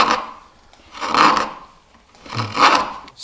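Sharpened curved chisel cutting cross grain through wood, two slow, loud scraping strokes up close, each swelling and fading over about a second with a brief pause between.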